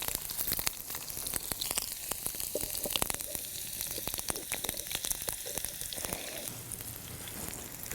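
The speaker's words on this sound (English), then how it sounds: "I think I should cook the onions until they're translucent." Onions frying in a hot pan give off a continuous crackling sizzle with scattered pops, steady and close throughout, no talking.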